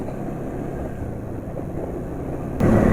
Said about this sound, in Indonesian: Suara mesin nggak begitu halus, ada asak-asak kayaknya dari bagian depan.